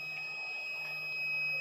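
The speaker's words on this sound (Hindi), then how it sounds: "इसमें बीप का साउंड आ रहा है।" Continuity tester beep while checking the wiring of a Splendor BS6 fuel-injected motorcycle: a single steady electronic tone held throughout, moderately loud and close, with no talk.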